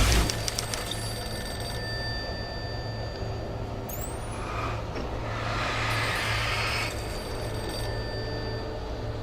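An electronic telephone ring in the video game Alan Wake sounds over a constant low mechanical hum, with a brief rising tone partway through and no one speaking.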